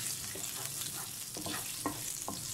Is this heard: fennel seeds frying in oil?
yes